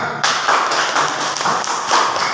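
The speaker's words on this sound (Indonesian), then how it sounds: "tepuk tangan untuk kita semua" An audience applauds at an educational session, a dense, continuous wash of clapping with no speech over it.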